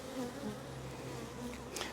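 Honey bees humming steadily around an open hive as foragers carry in pollen, a close, continuous buzz with faint shifting wingbeat tones and no talking.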